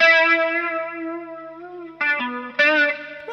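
Distorted electric guitar playing a solo as heard on a live version: a long sustained note bends slowly and warbles, then two sharp picked notes ring out with thick, saturated sustain, with no voice.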